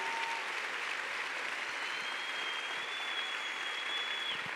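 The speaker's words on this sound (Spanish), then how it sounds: "¿Por qué no le das un fuerte aplauso al Señor Jesús?" A church congregation at a convention claps in sustained, even applause, a broad crowd of hands heard from within the hall, with a faint tone running through it.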